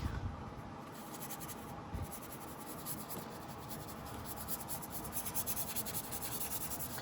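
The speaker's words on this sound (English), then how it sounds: "You hear this rubbing sound?" A paintbrush loaded with acrylic paint scrubs across textured paper in soft, continuous, close rubbing strokes, quiet and dry-sounding with no voices.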